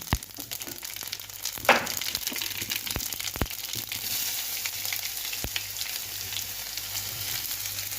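Cumin sizzles and crackles steadily in hot oil, with a few sharp pops and clinks along the way and no talking.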